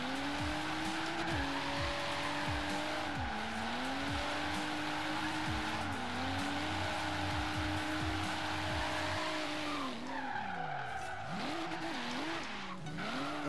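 A 2JZ-powered MK3 Toyota Supra in Forza Horizon 3 drives hard, its engine note sweeping up and down through gear changes, with steady tire squeal and skidding that runs loud and close throughout, with no talking over it.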